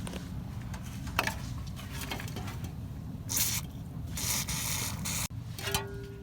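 Lubricant is sprayed onto a nut on a Chevy C10 front end during a suspension lowering job, in two short, hissing bursts over a low background hum, with a sharp metallic click between them.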